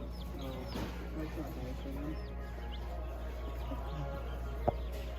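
Baby chicks peep faintly at a farm supply store, with a few scattered high chirps over a constant low indoor hum.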